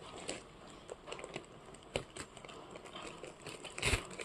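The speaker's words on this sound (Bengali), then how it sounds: "Parcel unpack time." Parcel unpacking, with quiet scattered crinkles, taps and rustles of packaging handled up close, irregular and soft, ending in a slightly louder crackle.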